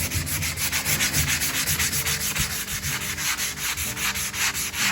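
Wood being hand sanded with 160 grit sandpaper, a loud close rhythmic rasp of quick back-and-forth strokes repeating steadily with no pauses or talk.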